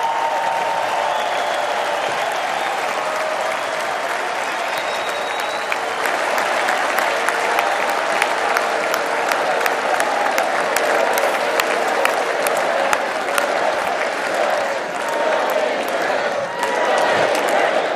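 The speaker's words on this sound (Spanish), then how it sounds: "Y ahí se desata la ovación de los que están presentes en la convención del Partido Republicano" A large crowd gives a sustained ovation at the Republican Party convention, loud continuous clapping and cheering that carries through the whole stretch, with crowd voices mixed in.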